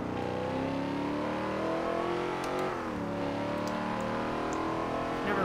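Muscle car with a live axle in Forza Motorsport 7 revving hard out of a corner, a loud, continuous engine roar that climbs in pitch, dips at a shift and climbs again.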